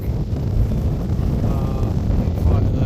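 Strong wind buffets the microphone on a hilltop along the Pacific Crest Trail, a loud, constant low roar with gusty rumble throughout.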